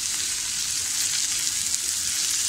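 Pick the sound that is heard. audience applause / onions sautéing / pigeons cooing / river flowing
onions sautéing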